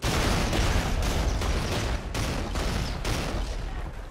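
Rapid gunfire from Call of Duty: Ghosts multiplayer, a run of sharp repeated shots about every half second, loud and continuous with no talking.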